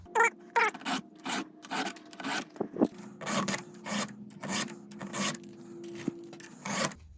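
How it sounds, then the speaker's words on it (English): Round hand file drawn across chainsaw teeth, giving a series of short, close rasping strokes in a steady back-and-forth rhythm, with slight snagging on the early passes. "to push the file through at least the first 2 times, you'll notice it's snagging a little bit"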